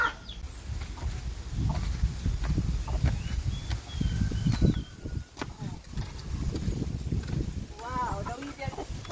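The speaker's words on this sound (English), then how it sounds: "This one is native chicken, so it's hard to catch this one." Native chicken clucking and crowing close by on a farm, repeated short calls scattered through the stretch over rustling and shifting noise, with a few sharper squawks near the end.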